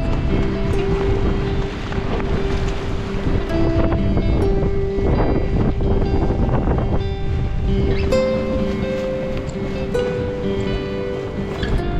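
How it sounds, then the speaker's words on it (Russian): Strong wind buffeting the microphone by the sea near Marmaris, Turkey, a loud continuous roaring rumble with gusts, faint tonal hums and clatter mixed in, no speech. "Смотрите, как чайка борется с ветром."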